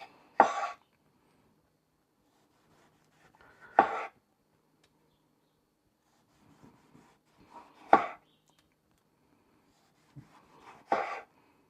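Knife chopping through cheeseburger ingredients on a cutting board in sharp, isolated strikes, four to five chops spaced a few seconds apart with quiet pauses between, close and fairly loud.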